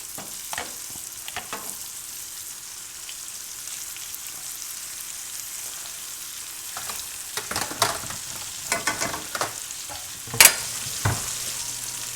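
Seasoned pork chops sear in a hot pan with a soft, steady sizzle. Scattered clicks and scrapes from handling the pan and the meat break through the sizzle, getting busier toward the end.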